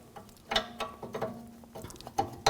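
A 21mm wrench ratchets on the rear shock absorber bolt of a 2011-2018 Volkswagen Jetta, giving a few sharp metallic clicks and clinks, close and fairly quiet, with no talking.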